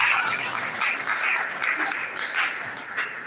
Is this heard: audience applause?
yes